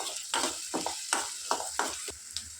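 Onions frying in oil, fairly quiet, with a soft sizzle under a rhythmic series of spatula scrapes and stirs, about one every half second.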